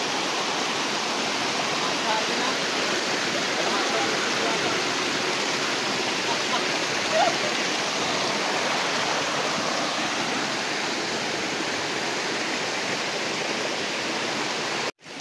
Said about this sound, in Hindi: पानी एकदम कांच के जैसा बह रहा है.